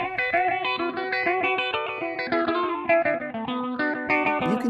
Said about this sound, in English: Here's some phaser with some slapback echo.